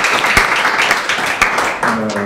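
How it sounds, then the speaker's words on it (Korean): Applause rises from a forum audience, a dense, bright wash of clapping that stays loud and steady throughout, with a voice speaking over it near the end. "박수 부탁합니다"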